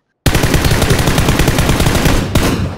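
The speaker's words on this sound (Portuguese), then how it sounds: "Atira nele! Atira! Com a arma!" Automatic gunfire in the battle game PUBG bursts in after a brief silence, loud rapid shots in a continuous rattling stream, with a short break near the end before firing resumes.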